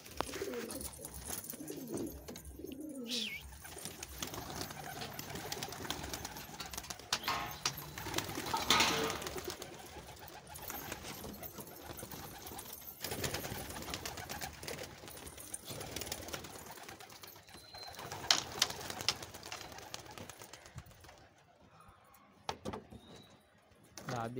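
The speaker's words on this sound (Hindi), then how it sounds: "उड़ाते हैं थोड़ा कबूतरों को।" Homing pigeons coo softly at a distance, with faint soft calls surfacing now and then over a noisy outdoor background, occasional knocks and some muffled voices.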